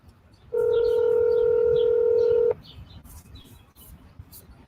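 A phone ringing tone plays over speakerphone: one steady electronic tone lasting about two seconds, then cutting off to quiet room noise.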